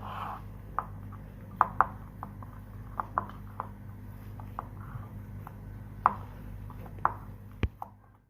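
Boiled potatoes being mashed in a bowl while making a potato sandwich omelette, a series of soft, irregular squishing presses and light taps against the dish, with a low steady hum throughout.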